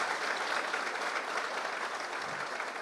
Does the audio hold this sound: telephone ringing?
no